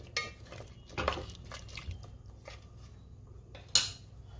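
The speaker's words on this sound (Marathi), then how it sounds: "पुन्हा सगळं व्यवस्थित मिक्स करून घेते" A spoon stirs mutton rassa in a cooking pot, giving a few sharp metallic scrapes and clinks against the pot, with quieter stirring between them and no talking.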